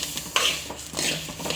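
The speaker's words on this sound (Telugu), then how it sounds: "ఆవాలు రెండింటిని కలుపుకొని ఫ్రై చేసుకోవాలండి" Mustard seeds dry-frying in a pan while being stirred, a close, continuous rustling sizzle with light scraping and a brief brighter crackle partway through.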